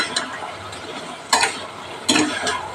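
A mixed vegetable curry of taro stems, pumpkin, potato and ridge gourd is stirred and sautéed in a pan, lid mostly on: a soft continuous sizzle with a few sharp scraping and clattering knocks against the pan.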